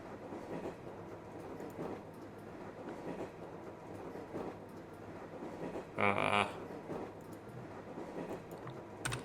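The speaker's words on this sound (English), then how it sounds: "Why do I have to listen to loud train noises?" Video game train noise: a continuous rolling rumble of rail cars with periodic clacks, fairly quiet, and a brief brighter squeal or clatter burst partway through.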